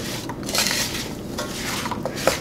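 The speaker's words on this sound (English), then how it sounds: "You can see as I'm stirring, it's still boiling." Spoon stirring a pot of chocolate-cherry jam at a full rolling boil, a steady scraping and bubbling texture with scattered metallic clinks against the pot, close and continuous with no talking.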